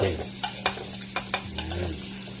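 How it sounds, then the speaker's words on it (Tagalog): Garlic and onion sauté in a pan with a soft steady sizzle, broken by a few sharp spatula scrapes and taps against the metal. "gigisa na natin yung bawang. Lalagyan na natin itong onion natin."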